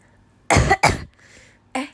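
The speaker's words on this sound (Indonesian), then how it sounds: "aku batuk juga tuh kan" Two sharp, loud coughs in quick succession from a woman hosting a live stream, followed by a shorter third cough after a brief pause, with no talk in between.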